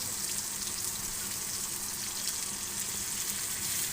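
Chopped onion frying in a pan, a steady close hiss of oil sizzling without break and with no voices.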